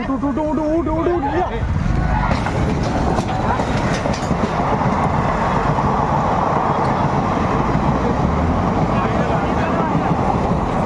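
A train rolls in and slows to a stop with loud, continuous rumbling and rattling wheel noise, while people nearby talk and shout over it.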